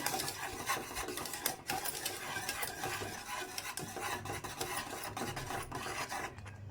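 A spoon stirring a thickened homemade ice cream mixture in a pot over high flame, producing continuous close scraping and swishing strokes with a faint bubbling undertone.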